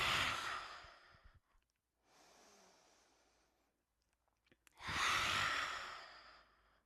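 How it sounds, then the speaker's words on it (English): Forceful, heated exhalations during an energizing yoga breathing exercise: two long, loud breaths out, close up, separated by a softer, quieter breath and near silence. "giving a nice heating, assertive exhalation to release"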